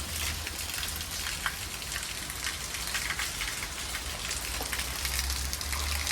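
Steady monsoon rain pours down continuously in a village, a dense hiss of drops striking surfaces with a low rumble underneath, no voices.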